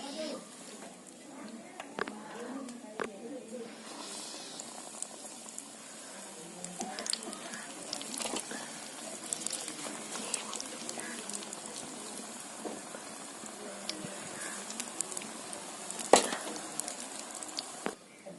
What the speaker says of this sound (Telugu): ఈ బజ్జీలని మళ్ళొకసారి బ్రౌన్ కలర్ వచ్చేదాకా వేడి చేసుకోవాలి.